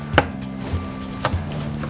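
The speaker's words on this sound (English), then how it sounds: "it's easy to just crush it with the blade of a knife" A peeled garlic clove is crushed under the flat blade of a kitchen knife on a chopping board, making a few sharp, close knocks and a soft squashing press, with no talk.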